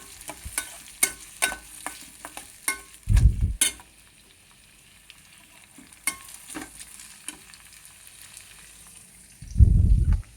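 Chopped onions frying and stirred in a pan, with a spatula scraping and clicking against the metal over a faint sizzle, plus two brief louder bursts of frying.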